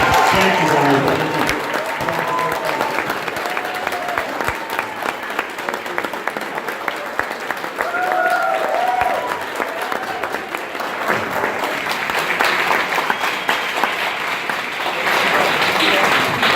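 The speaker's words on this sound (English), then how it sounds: "One more round of applause for" A comic-con panel audience fills the room with sustained, dense applause for the whole stretch, loud and steady, with scattered voices and cheers mixed into the clapping.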